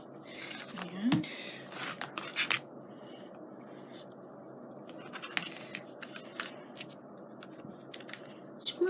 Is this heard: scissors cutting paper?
yes